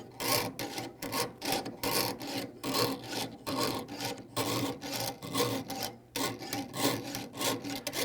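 A jeweller's saw cutting metal for patina earrings, about twenty rhythmic rasping strokes, each a sharp burst of scraping close to the listener, alone without talk.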